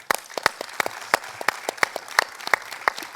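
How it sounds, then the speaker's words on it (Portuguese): A round of applause from a gathering at a prayer event: sharp, sparse claps from a small group, spaced unevenly and heard fairly close, with no talking. "com uma salva de palmas"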